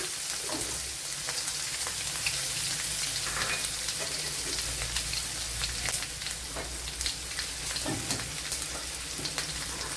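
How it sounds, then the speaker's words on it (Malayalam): Garlic and a small piece of ginger sizzle in hot oil and ghee, a dense, steady crackle with scattered sharp pops close up in the pan, with no talking. "ഇവിടെ കുറച്ച് ഓയിൽ ഒഴിച്ചു കൊടുത്തിട്ടുണ്ട് അതിലേക്ക് നെയ്യ് ഒഴിച്ചു കൊടുക്കുക"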